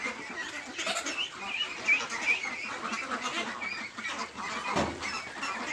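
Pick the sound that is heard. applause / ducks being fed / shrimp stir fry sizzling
ducks being fed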